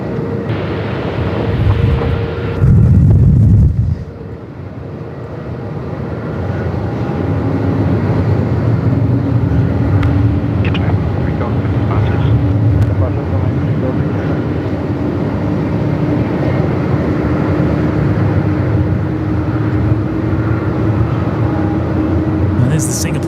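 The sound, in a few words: heavy airliner takeoff roll in strong wind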